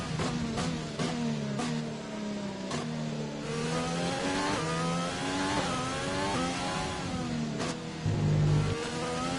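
Formula One cars in the F1 2020 racing game at the Belgian circuit, a Ferrari among them, roaring at high revs with gear-shift pitch steps and one car sweeping past, loud and continuous without speech.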